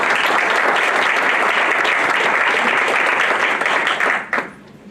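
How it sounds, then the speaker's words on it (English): Sustained audience applause fills a conference hall during a talk on Bangladesh's democracy, a dense steady roar of clapping that holds loud for about four seconds before quickly dying away. "another huge applause should be going to Bangladesh's democracy"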